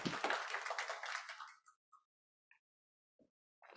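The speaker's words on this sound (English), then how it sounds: "let's give Matt, Greg, and Karen another round of applause for a great presentation" Audience applause after a presentation at a Saturday morning investing and real estate seminar, a close burst of clapping that fades out within about two seconds, leaving a few scattered claps.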